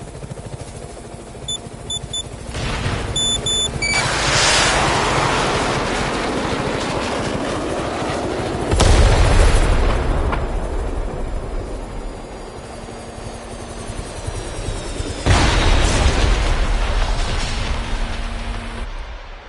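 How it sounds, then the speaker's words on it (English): Helicopter in the Chernobylite video game being shot down, with a heavy mechanical drone broken by loud, booming bursts that sound like explosions and impacts, with rumbling swells between them. "the helicopter you shot down"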